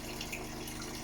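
Water from a tap runs steadily into a sink being filled to rinse dishes, a continuous close, even splashing hiss with no talk.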